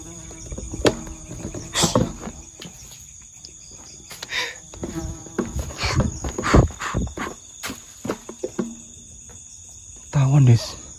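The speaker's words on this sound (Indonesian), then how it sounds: "Mendekati cahaya nih tawon ini." A wasp buzzes close by near a light in short, irregular bursts, its drone rising and fading as it darts around, with brief clicks and bumps between.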